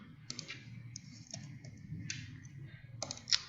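Mouse clicks while selecting vertices in SketchUp software, a handful of crisp, close, separate clicks at irregular intervals over a quiet room background.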